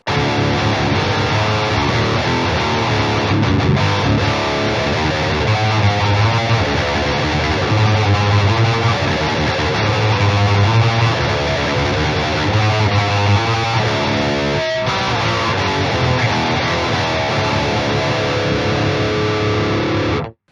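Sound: electric guitar played through Taurus Servo 3 enhancer

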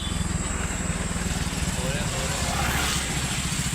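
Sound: motorcycle engine running

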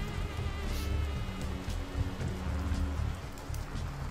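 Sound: rain falling

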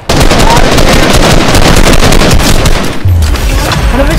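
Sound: gunshots in a shooter video game

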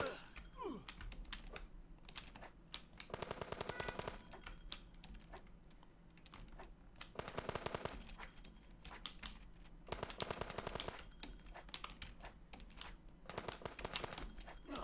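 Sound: gunfire in a top-down shooter video game

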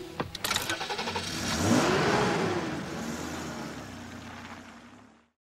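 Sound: car engine starting and revving

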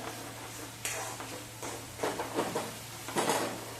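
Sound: masala paste being sautéed in oil

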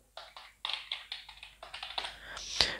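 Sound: typing on GXT 830 RW Avonn mechanical keyboard

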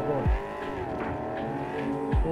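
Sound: car driving and crashing in video game Cyberpunk 2077

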